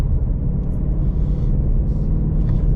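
A 2022 Ford Mustang Mach 1 with a six-speed manual gearbox gives a deep, steady engine rumble, loud and close with a slight swell as it rev-matches on a downshift, with no voices.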